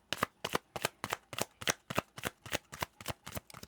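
Tarot cards shuffled in a steady run of about twelve crisp, evenly spaced riffling snaps, close and clear with no talking.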